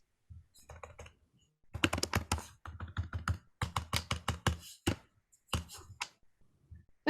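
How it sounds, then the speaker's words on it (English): Bursts of typing on a computer keyboard, clear key clicks coming in quick uneven runs with short pauses between them, close and fairly quiet. "notice we're providing that sound of our typing."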